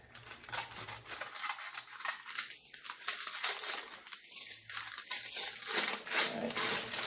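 Scissors snipping and crinkling through the packaging of a mail-order parcel of O scale model railroad bridge girders, a steady run of close crisp crunches and rustles with no talk.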